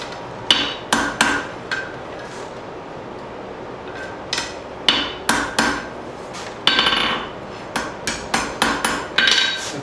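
Hammer blows forging metal into a bird feeder hanger, ringing strikes in irregular bursts of two to four, close and loud with no talk.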